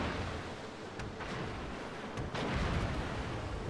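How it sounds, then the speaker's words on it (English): Naval gunfire and shell impacts in World of Warships around a Romulus destroyer, a steady roar of booming blasts and splashes with louder bursts near the start and middle, no speech. "I'm getting shot at."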